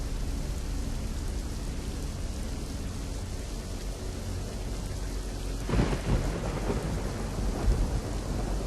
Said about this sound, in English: A crackle of thunder.